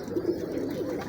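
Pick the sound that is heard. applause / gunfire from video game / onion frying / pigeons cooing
pigeons cooing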